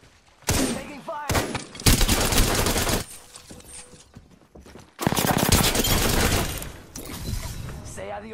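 Rapid bursts of automatic gunfire from the video game Apex Legends, loud and close, in several long volleys separated by brief quieter gaps with some game effects.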